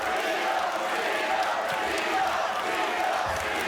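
A boxing arena crowd roars in a steady, dense wall of cheering and shouting at a Teofimo Lopez fight, loud and continuous with no distinct breaks.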